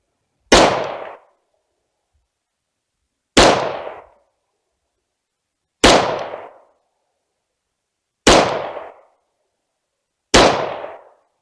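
Five loud, close pistol shots from a .45, evenly spaced about two and a half seconds apart, each a sharp crack that decays quickly into silence.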